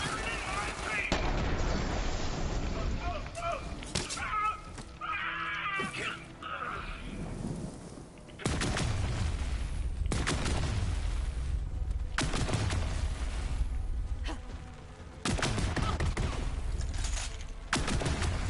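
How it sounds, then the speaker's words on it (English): In the video game Borderlands 3, a thrown grenade and gunfire produce repeated booming blasts and crackling shots at moderate loudness, several explosions spaced across the clip with a dense game soundscape. "Let me see if I can throw a grenade in there."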